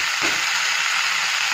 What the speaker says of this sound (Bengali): চলুন এখানে কলমি শাকটা ভাজা বসিয়ে দিই